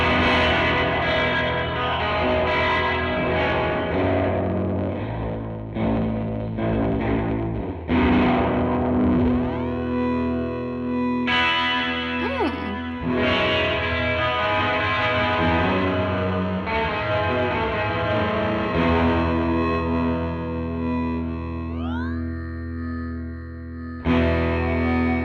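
A Death by Audio guitar effects pedal, a limited-run unit, set to ring modulation turns played guitar notes into dense, metallic, distorted tones with shifting pitch sweeps, loud and continuous with no voices.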